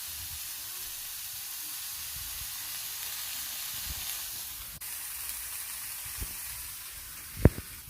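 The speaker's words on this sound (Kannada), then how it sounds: "ಜೀರಿಗೆ 1 ಟೀ ಸ್ಪೂನಷ್ಟು ಹಾಕ್ಕೊಳ್ಬೇಕು. ಹಾಕ್ಕೊಂಡು ಅದು ಕೂಡ ಫ್ರೈ ಮಾಡಬೇಕು." Cumin seeds frying in a pan for a Karnataka-style holige saaru, a steady soft sizzle and hiss running throughout, with a few brief louder clinks or pops near the end.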